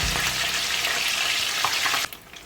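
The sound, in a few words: fish frying in oil while being turned over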